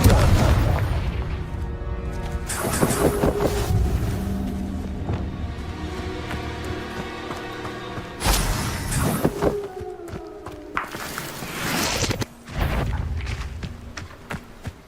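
Confringo blasting spell detonating during Hogwarts Legacy combat, a series of loud booming bursts and thuds spread across a busy battle soundscape.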